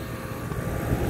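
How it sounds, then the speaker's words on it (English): Carrier package rooftop unit's blower moving air, a steady broadband whoosh with low rumble, close and continuous for about a second with no talk. "At least I got a blower moving some air."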